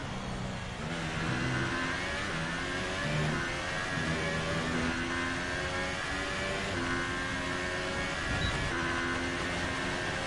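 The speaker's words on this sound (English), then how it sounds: "I believe a Ferrari is rolling down pit road right now" A Ferrari Formula 1 car in the F1 2018 racing game rolls down pit road with a steady, loud engine drone and shifting harmonic whine that holds throughout, no talk over it.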